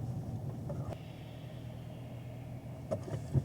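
A 2020 Camaro SS 1LE idling and creeping through deep snow: a low steady engine rumble heard from inside, with a couple of faint knocks and clunks.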